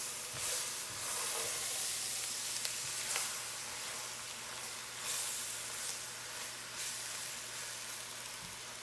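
Seafood gumbo with hot sauce sizzling in a pot as it cooks down, a steady close bubbling hiss with soft pops and occasional stirring scrapes, no talk.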